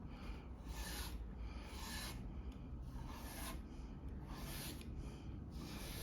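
Scissors being sharpened by stroking them along a leather belt, drawn away from the edge rather than into it, giving a steady, close rasping rub that repeats in several strokes throughout, with no talk.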